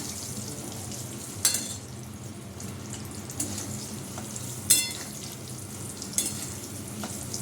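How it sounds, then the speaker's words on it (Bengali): Potatoes frying in oil in a pan after fish was fried for curry, a quiet steady sizzle with a few sharp utensil clinks and scrapes spaced through it, no talking. "আলু একটু ভাজা হোক"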